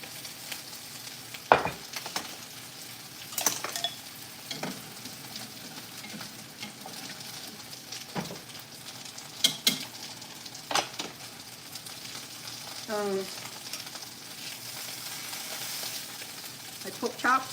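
Cambodian pork chops fry in a pan with a soft, continuous sizzle, punctuated by scattered clicks and scrapes of a utensil and occasional louder knocks, all fairly close.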